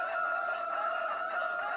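A rooster crows in the video game Farming Simulator 22, a loud, sustained, steady call that fills the whole short stretch without pause.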